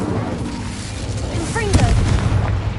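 An Incendio fire spell cast in Hogwarts Legacy, heard as a loud rushing burst over constant game noise, with a brief swelling whoosh partway through.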